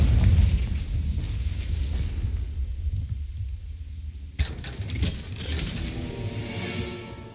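A Confringo fire spell in Hogwarts Legacy lands with a deep rumbling boom that fades, then a sharper burst of crackling debris, loud and close, with no voices.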